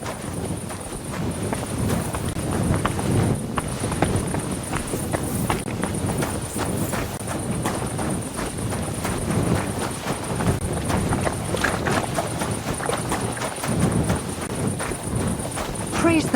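Horse hooves clip-clop at a steady walking rhythm in Kingdom Come: Deliverance 2, a medieval video game, at night, close and continuous over an ambient outdoor backdrop.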